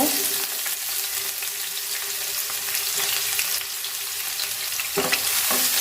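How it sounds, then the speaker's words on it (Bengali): Onions fry in oil left over from frying eggplant, a continuous close sizzle with stirring clatter and a couple of sharper scrapes toward the end. "বেগুন ভাজার তেলে আমি পেঁয়াজ দিয়ে দিব"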